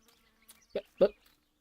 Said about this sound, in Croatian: Muha me neke ganje.